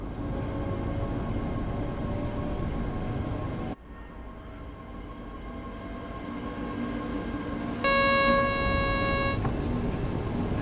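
An ÖBB 4024 Talent electric multiple unit in Train Sim World 4 throttling up, a steady rumbling drone that drops briefly and then builds, with a loud horn-like tonal blast sounding near the end.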